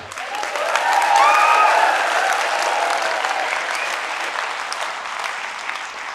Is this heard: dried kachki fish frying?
no